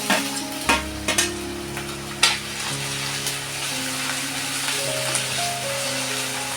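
Chopped tomatoes go into softened onions frying for paneer burji, bringing a few clattering knocks and spoon clinks at first, then a soft, even sizzle underneath. No voices.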